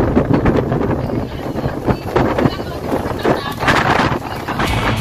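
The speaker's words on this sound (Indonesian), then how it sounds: "Wow, anginnya kenceng banget teman-teman." Strong wind buffets the microphone in loud, rumbling gusts on a boat trip to Lai Chi Wo, Hong Kong, with a voice partly audible beneath the roar.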